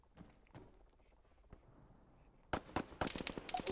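Gunfire in the ArmA III military shooter during a King of the Hill match: faint, scattered single shots early on, then a loud burst of sharp, rapid cracks in the final second and a half, with no talk.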